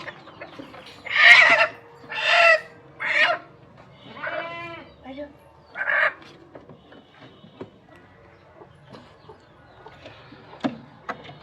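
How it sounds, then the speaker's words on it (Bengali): Chickens and ducks crowd into a coop, giving a run of loud squawking calls that fade into quieter scattered clucks and shuffling. "খোপটা খুলে দেওয়ার সঙ্গে সঙ্গে মুরগি ঢুকে গেছে ভিতরে"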